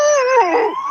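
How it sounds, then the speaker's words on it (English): A dog howls loudly and close by from inside a car, a sustained wavering wail that bends downward and trails off, with no talking over it. "Hey, Lois, there's another dog in that car."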